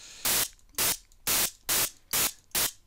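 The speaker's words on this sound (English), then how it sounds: "Now here we are, we're at the noise wave here." Unfiltered noise waveform from a Caustic synthesizer sounds as six loud, even bursts of harsh hissing static, each about a fifth of a second long, separated by short quiet gaps, with no pitch change.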